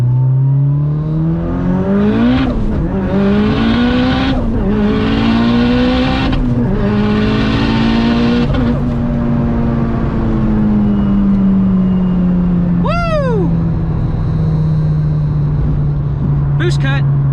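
A 600hp Mitsubishi Evo 9 engine hammers against boost cut in loud, choppy bursts of stuttering revs over a sustained drone, with people talking over the noise and a brief tire chirp near the end.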